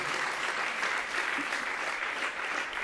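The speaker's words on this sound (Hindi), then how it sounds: "तालियां बजा लो जरा एक बार जोर से" A large crowd at a birthday celebration and herb day ceremony applauds loudly, producing a steady, even wash of clapping that holds throughout without a break.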